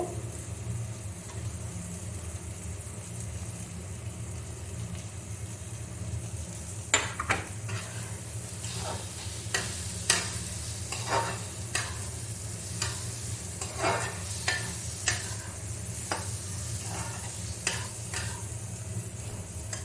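Fried potatoes are stirred into a sizzling spice mixture in a pan, steady frying hiss broken by a string of sharp spatula scrapes and clinks against the metal, close by and without talk.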